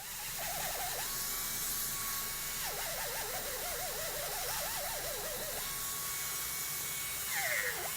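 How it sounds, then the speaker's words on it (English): A dental handpiece spins a brown finishing point against a denture, its thin high whine rising and wavering as it presses and lifts, quiet and close with no talk. "The finishing point in brown is fantastic for polishing the case"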